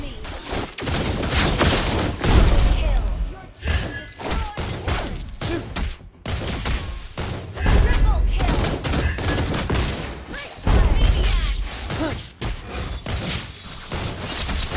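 Granger's crescendo bullets fire in Mobile Legends as loud, rapid bursts of gunfire with heavy thumping impacts, repeating in clusters throughout with brief gaps between volleys.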